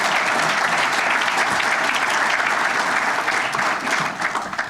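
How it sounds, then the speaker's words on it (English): Audience applause fills a hall at an investors' conference in Pottstown, dense steady clapping from many hands that tapers slightly at the end, with no talk. "Can we have another round of applause for Senator Mensch?"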